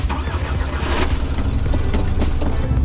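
An Isuzu NPS expedition truck's engine turns over and settles into a loud, steady, close-up idle with a rough low rumble.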